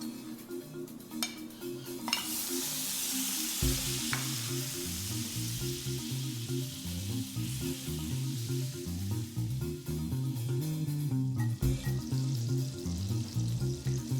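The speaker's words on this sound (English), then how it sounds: "I'm going to start the sauce by melting the butter" Butter melting and sizzling in a pan as the base for a creamy garlic pasta sauce, a steady broadband fry hiss with a few faint utensil clicks, close and continuous without talk.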